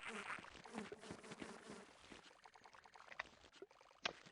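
Bees buzzing in the game Half-Life, a dense insect drone filling the scene with scattered sharper clicks and game effects layered over it.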